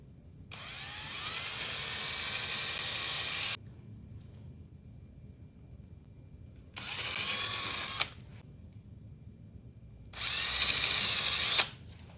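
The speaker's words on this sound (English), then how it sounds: "Now you can see our holes, and we're going to go ahead and drill right into it." Power drill boring holes for a transducer mount, three separate whining bursts of a few seconds each with quiet gaps between, close and clear with no talk.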